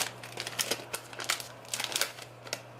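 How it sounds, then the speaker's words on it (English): A paper label crinkles and tears in a series of sharp, close rasping bursts, uneven in rhythm, with no voices. "So you can tear it off like something like this"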